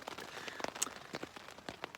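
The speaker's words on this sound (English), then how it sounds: "you can kind of hear the drip, drip, drip, drip on the tent" Rain dripping onto a tent at a mountain campsite in the Carter range, New Hampshire: scattered soft drops tapping the fabric at irregular intervals over a quiet, hissy background.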